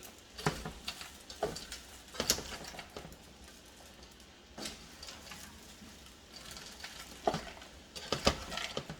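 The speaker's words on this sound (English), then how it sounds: "Give it a little stir" Stirring food in a cooking pot, a series of irregular scraping and clattering strokes against the pot with quiet gaps between them, faint and close, no talk.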